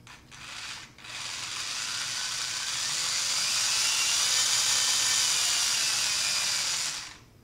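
A small SGILE RC 4x4 rock crawler's electric motor whines steadily under throttle on a tabletop, a brief burst first, then a sustained high-pitched drone that holds for several seconds before cutting off.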